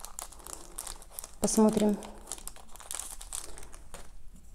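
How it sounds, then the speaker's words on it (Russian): Close, crisp crinkling of a small paper packet of tobacco seeds as they are scattered onto soil, busiest in one short burst, with a quiet voice briefly speaking nearby. "раструшивая из этого пакетика на поверхность грунта"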